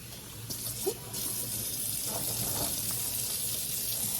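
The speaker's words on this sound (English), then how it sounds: "I am just rinsing it, letting it drain a little bit." Tap water runs steadily into a sink while a maple sap container is rinsed, a constant close splashing stream with a few brief knocks and shifts near the start.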